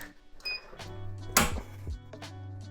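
Heat press clamp latching down at high pressure while printing plastisol transfers, a single loud metallic clack near the middle amid quieter mechanical creaks and hum.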